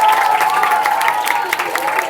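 Audience applause for student performers at a school annual day function, loud continuous clapping from a crowd with a faint hint of cheering and voices underneath.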